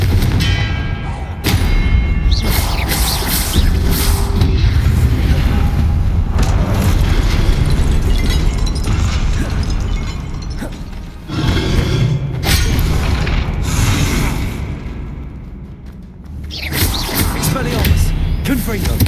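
Confringo blasting spell explosions in Hogwarts Legacy come as repeated heavy booms and thuds, loud and close, spread across a busy combat mix with brief quieter gaps, alongside spoken voices.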